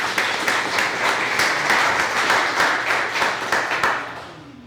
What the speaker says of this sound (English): I still think we should do another round of applause for them.